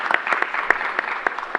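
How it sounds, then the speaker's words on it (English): Scattered audience applause honoring first responders and healthcare workers at a COVID-19 booster site launch, a few distinct hand claps in uneven rhythm, fairly close. "we should continue to give them a round of applause"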